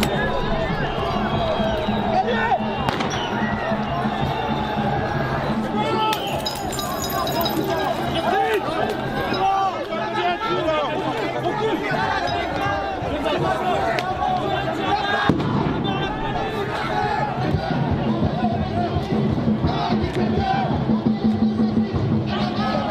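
A protest crowd of gilets jaunes as police charge into it, a constant roar of shouting and movement with sharp bangs and pops scattered throughout, and voices talking over the din.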